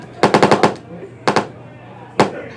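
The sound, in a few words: machine gun gunfire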